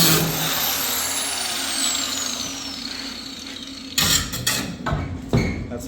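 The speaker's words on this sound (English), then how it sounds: "Now we got the cutoff wheel." An angle grinder fitted with a cutoff wheel runs on metal while chopping the roof of a Shoebox car at the B pillars, a sustained high whine that winds down, followed by several sharp, loud bursts of cutting or knocking.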